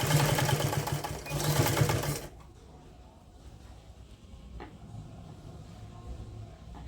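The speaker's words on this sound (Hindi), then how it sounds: "तो अब हमने यहाँ से सिलाई शुरू करनी है" A sewing machine runs a fast, close burst of stitching on a knitted sock for about two seconds, then stops, leaving quiet room noise with a faint click.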